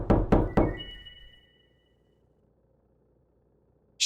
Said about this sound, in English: Someone knocking at your door?